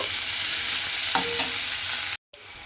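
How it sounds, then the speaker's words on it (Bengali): Steady, dense sizzling of bitter gourd frying in hot oil, close and continuous, with a brief stir and a short cut to silence near the end. "দেখুন এইভাবে কিন্তু করলাটা আমি প্রথমে একটু সময় নিয়ে লাল করে ভেজে নেব"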